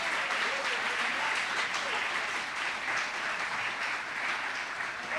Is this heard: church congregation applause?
yes